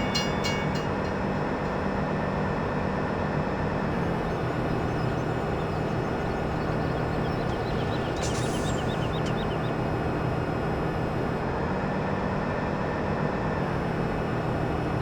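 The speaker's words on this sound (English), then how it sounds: "just by riding on the train" A train in the Farming Simulator video game rolls steadily along a railway, a continuous loud rumble of wheels and carriage noise with a faint high whine that holds for the whole stretch without a break.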